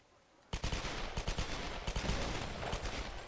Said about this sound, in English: You get heavily outnumbered got guys shooting the shit out of you all over the place.